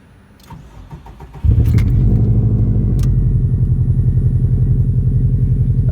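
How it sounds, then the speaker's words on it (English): A big-turbo Subaru WRX cold-starts up close: a quiet lead-in, a sudden loud catch, then a steady, deep, pulsing idle rumble that holds without a break. "Alright, so this is going to be the cold start of the WRX."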